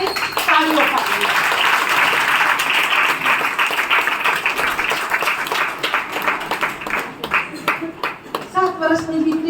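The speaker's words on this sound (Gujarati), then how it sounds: "મહિલા પરિષદને સૌ પ્રથમ આપણે આપણા માટે તાળીઓ પાડીએ." A hall audience of women at a women's council gathering claps together in a dense, sustained patter that thins toward the end, with a voice speaking over it.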